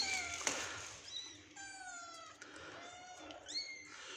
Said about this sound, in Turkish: Anne kedimiz burada.